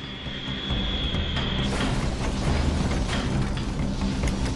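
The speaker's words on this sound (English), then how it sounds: "the plane hits more turbulence" An airplane engine roars close and continuous inside the cabin during turbulence, a dense, loud drone that thickens after a brief high whine at the start, with no talking.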